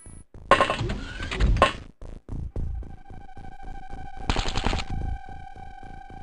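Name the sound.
gunfire in a video game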